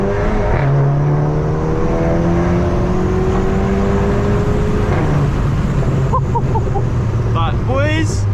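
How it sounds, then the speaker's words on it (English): A tuned VW MK7 GTI Stage 2 accelerates with a rising engine drone heard from inside the car, followed by a short series of sharp exhaust crackles and pops as the revs drop, loud and close. "You can hear the crackles."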